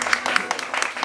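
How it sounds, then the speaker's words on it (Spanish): Applause at a family birthday celebration with a mariachi band, a steady wash of many hands clapping at close range through the whole second, with sharper individual claps popping out. "Un aplauso bien fuerte"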